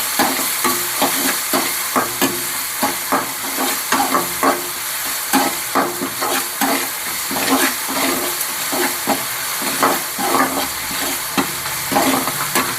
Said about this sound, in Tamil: இந்த மாதிரி கைவிடாமல் வதக்கி விட்டுக்கினே இருக்கணும்.